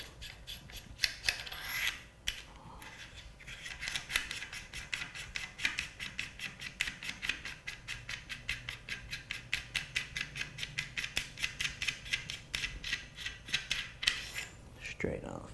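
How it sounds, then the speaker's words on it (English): Retaining ring on a Black Aces Tactical Pro bullpup's piston housing being unscrewed, a steady rasping, scraping ratchet of metal threads in quick repeated strokes, close and continuous throughout. "And now I can remove my piston housing retaining ring."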